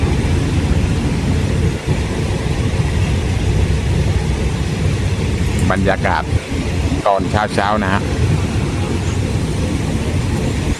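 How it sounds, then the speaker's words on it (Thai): Local train 447 pulls out of Ban Song station in Surat Thani on a cloudy morning, a steady low rumble running throughout while someone talks over it. "รถไฟท้องถิ่นขบวน 447 ก็เดินทางออกจากสถานีรถไฟ บ้านซ่องนะฮะ สุราษฎร์ธานีครับผม"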